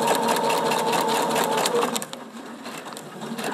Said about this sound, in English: I'm starting out in the seam allowance again, stitching on the line.